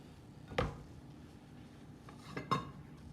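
Two sharp clinks of a utensil against a pot as seafood with Creole seasoning is stirred for a fisherman's pie, close and quiet, spaced about two seconds apart.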